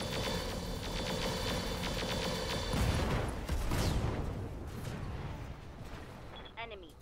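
Weapons fire in the BattleTech mod Roguetech, a loud continuous barrage of booming shots and mechanical clatter that swells in the middle and fades toward the end, with a voice talking over the action.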